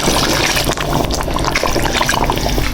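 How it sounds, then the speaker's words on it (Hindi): Water is poured into a cooking pot of simmering peas and meat for mater gosht, a loud continuous gushing and splashing that fills the whole moment. "ये 3 गिलास पानी के इसके अंदर मैंने ऐड कर दी"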